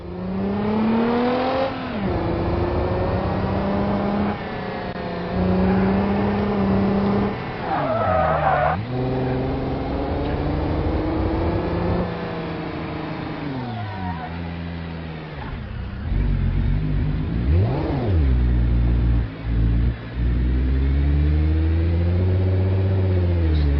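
A Toyota Land Cruiser 79 engine in BeamNG drive revs and climbs through the gears on a test map, with loud rising and falling engine pitch, gear changes, and tire skids throughout.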